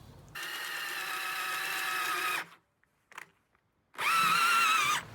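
A tenon maker cuts a tenon on the end of a cherry log, giving a bright, steady mechanical whine in a two-second run, a short pause with faint clunks, then a second loud, briefer burst.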